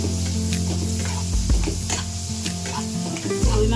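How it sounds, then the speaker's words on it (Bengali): Ground coriander, chili and turmeric fry in hot oil for a rohu fish roe dopeyaja, giving a steady close sizzle with stirring scrapes throughout and a brief louder burst of stirring midway. "ধনিয়া, তারপরে একটু মরিচ, একটু হলুদ দিয়ে ভাজবো আগে"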